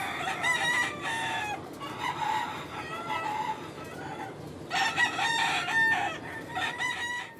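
Chickens cluck busily throughout, with two bursts of loud rooster crowing, one at the start and another near the end, close to the microphone.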